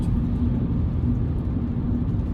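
Inside a Seat Ibiza 1.2 TSI with a manual gearbox, a steady, deep engine and road rumble fills the cabin at a constant, fairly loud level while the car drives.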